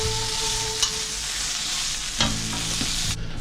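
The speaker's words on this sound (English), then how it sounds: "Make sure you stir them taters." Potatoes fry in a pan with a steady hiss and sizzle, while a spoon scrapes and stirs through them in a couple of brief clattering strokes, close and fairly loud.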